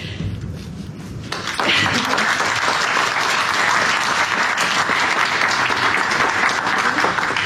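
Audience applause at a foundation's twelfth conference: steady, dense clapping that swells loudly after about a second and a half and keeps going without a break to the end.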